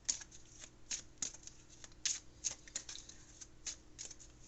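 Oracle cards being shuffled in a quiet room, a run of quick, crisp riffling snaps repeating about every half second, close and soft, with no talking.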